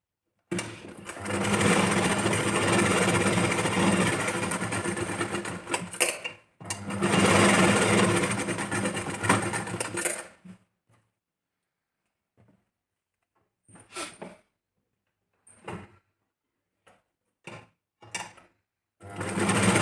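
A sewing machine stitches the pieces of a back-open, princess-cut blouse in two long, steady whirring runs. A quiet pause follows, then several short bursts of stitching as the fabric is adjusted.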